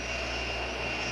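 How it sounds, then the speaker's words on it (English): A Boeing 757 jet airliner idling and taxiing into position on a runway, a steady, loud engine whine and roar with no breaks. "Red Barn, Boeing 757 is ready to taxi into position."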